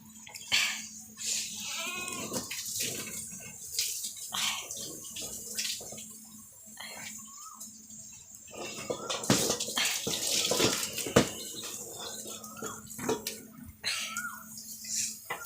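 Water from a hose pipe splashing and running unevenly while goats are bathed on a goat farm, with bursts of spray and gurgling, while voices and a high-pitched cry come and go over it.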